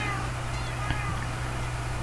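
Cats meowing in the video game Minecraft on PS3, a continuous dense layer of game-cat meows over a steady droning background hum, with no talk.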